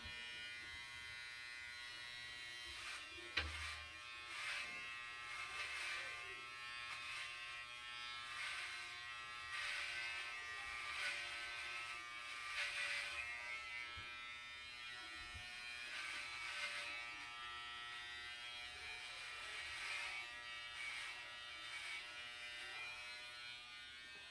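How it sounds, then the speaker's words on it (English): Electric hair clippers run steadily close by, buzzing continuously as they cut hair during a home high fade haircut with a textured top, with no talking. "I do find it easier to use the clippers for long to medium size lengths, or short to medium size lengths"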